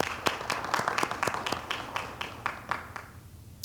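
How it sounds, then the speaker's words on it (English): A small group at a faculty and staff assembly gives sparse, uneven applause: a dozen or so distinct claps, close and fairly crisp, that thin out toward the end. "Round of applause."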